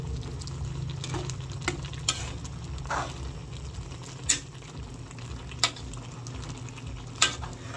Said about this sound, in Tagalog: Atin lang pong hahaluin.